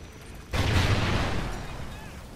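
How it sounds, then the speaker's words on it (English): Burst of video game gunfire from a James Bond shooter, a sudden loud eruption of dense crackling shots that hits at once, then slowly thins and fades over a couple of seconds. "Oh god, we're being shot at."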